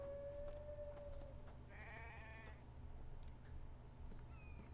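A small sheep in The Infected video game lets out a short bleat over a steady low in-game ambient hum, with faint tonal sounds around it.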